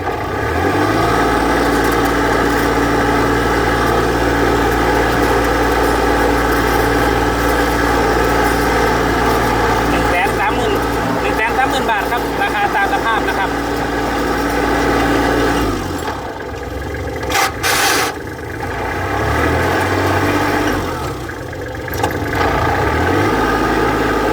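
A used Kubota L3408 tractor engine running steadily nearby, a loud continuous diesel drone with a brief dip and change in tone partway through before it settles again, no talking.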